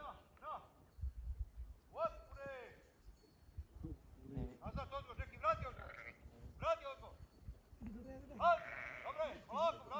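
Sheep on a farm in Europe bleat in repeated, fairly close calls throughout, overlapping with people talking and some handling noise in the pen.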